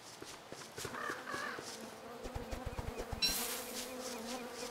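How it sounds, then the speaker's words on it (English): Bees buzz in the video game Don't Starve, a steady insect drone with light, quick footstep-like taps mixed in and a brief brighter burst near the end. "I hear bees."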